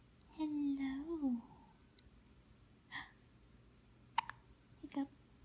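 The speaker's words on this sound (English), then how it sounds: "Hiccup." A baby hiccups a few times, short soft catches spaced out after an early drawn-out infant vocal sound, close and quiet in a calm room.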